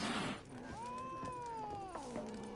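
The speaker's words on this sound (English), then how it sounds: "Oh, the cat doesn't like me either." A cat meows inside The Witcher 3 on PS4, a drawn-out, rising-then-falling cry lasting over a second, clear and close, with game ambience and soft murmuring around it.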